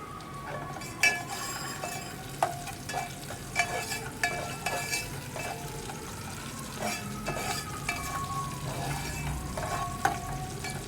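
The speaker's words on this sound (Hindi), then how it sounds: "स्लो फ्लेम पे जो है वो मैं प्याज ब्राउन कर रही हूँ।" Onions browning on a slow flame for chicken yakhni pulao, a steady soft sizzle throughout with a spoon stirring and clinking against the pot now and then.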